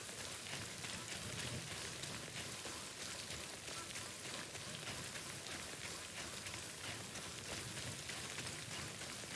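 Steady, faint hiss of Timefall rain in the video game Death Stranding, falling evenly and continuously throughout with no distinct drops standing out.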